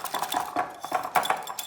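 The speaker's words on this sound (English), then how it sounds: "whisk that in" A whisk clinks rapidly against a bowl as grated grana cheese is beaten into Caesar dressing, with irregular close metallic taps and scrapes and no talking.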